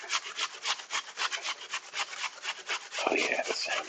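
Potatoes are rubbed over a grater for hash browns in rapid, regular rasping strokes, close and crisp, with a rougher scrape near the end.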